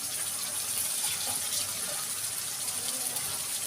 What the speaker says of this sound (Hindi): मैंने प्लेट का सारा पानी इसमें डाल दिया